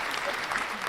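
A brief, steady burst of applause sound effect played during a Tejano talk show, a dense wash of clapping at moderate level lasting under a second.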